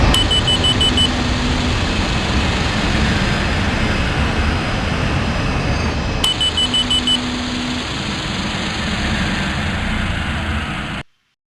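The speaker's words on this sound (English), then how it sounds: "So now let's turn off the engines one by one." Boeing 737 MAX 8 jet engines being shut down one by one after landing, heard as a loud steady cockpit roar and hum with faint electronic tones, the noise holding then cutting off abruptly at the end.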